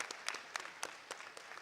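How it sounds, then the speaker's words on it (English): Light, sparse clapping from a small conference audience, a thin scatter of separate hand claps over about a second and a half, faint and somewhat distant. "Please, can you give her a round of applause?"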